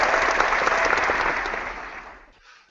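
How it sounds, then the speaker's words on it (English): A burst of crowd applause on a veterans' radio show, loud and dense clapping that holds steady, then fades out over a couple of seconds to silence. "I Get applause"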